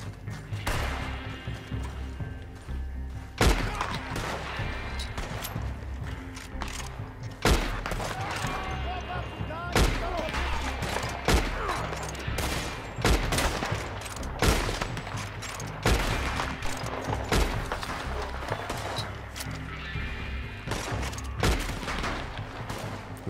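Repeated gunfire from headshots in Red Dead Redemption 2 Online, a string of sharp cracks scattered irregularly across a busy, loud battle soundscape with no talking.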